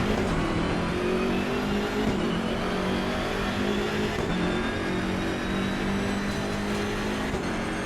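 A BMW race car engine in the sim racing game Assetto Corsa Competizione drones steadily and loudly throughout, holding a continuous high-revving tone with slight pitch shifts as it accelerates, with no talk over it.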